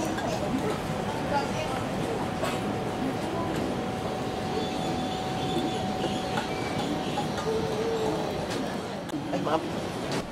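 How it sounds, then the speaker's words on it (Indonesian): Bonbon, the oldest electric locomotive, hauls the Joko Kendil train at a KRL centenary parade, a steady rumbling rail roar with a faint held tone and scattered squeals running throughout, close and continuous. "lokomotif listrik tertua, yaitu lokomotif Bonbon, menarik kereta Joko Kendil dan dibantu oleh kereta Joko Tingkir"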